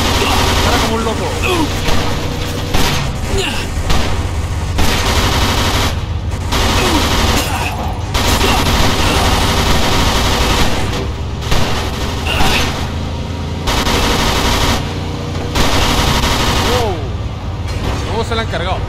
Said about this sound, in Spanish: ¡Dispara como un loco!